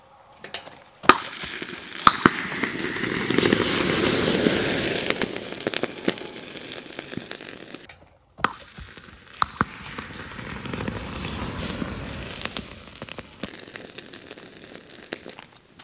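A campfire flares up after brake fluid is mixed in, with a sudden hissing rush and dense crackling and popping that carries on steadily at close range, with sharp snaps scattered through.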